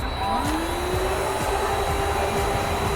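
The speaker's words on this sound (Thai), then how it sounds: "ตัวนี้ก็จะเป็นเครื่องดูดฝุ่นเป็นของแถมให้นะครับชุดคอมโบ" A cordless vacuum cleaner running at its fastest setting, a loud steady motor whine and airflow roar with a pitch rising as it spins up, continuous for the whole stretch.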